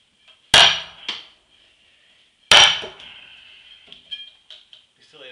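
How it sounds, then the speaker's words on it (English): Two sharp metallic hammer strikes on a steel wedge driven into an Osage orange log, about two seconds apart, each ringing briefly, followed by lighter scattered knocks and taps. "We'll hammer this in until we can get this wedge out"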